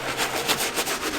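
A stiff-bristled brush scrubs rhythmically back and forth against the sole of a dirty Yeezy sneaker, a steady close raspy rubbing with regular strokes and no voices.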